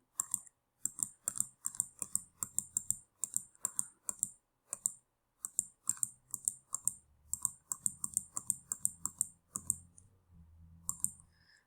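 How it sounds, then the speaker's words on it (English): An eraser rubbing out a written math answer, close, quick rhythmic scrubbing strokes in short bursts with brief pauses and no talking. "I'm going to erase this one"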